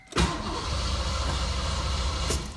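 A Fox Body Mustang with a suspected fuel pump fault cranks without catching: a steady, rhythmic starter churn close by for about two seconds, beginning and ending with a sharp click, and the engine never fires.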